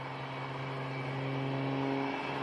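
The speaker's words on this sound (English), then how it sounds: "Down at ground level, Hayden Prophet II firing up those two jet afterburning engines." Two former T2 Buckeye jet engines with afterburners spool up at an air show, a steady roaring tonal hum that swells gradually and holds loud and continuous.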